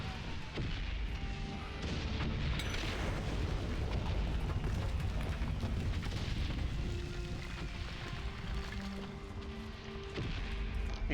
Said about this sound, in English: Just wait for the gunfire